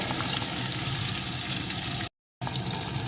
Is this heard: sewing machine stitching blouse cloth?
no